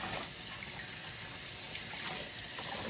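A gutted mackerel is rinsed under a running kitchen tap before roasting in an air fryer. Water gushes steadily and close up, splashing the whole time with no talking.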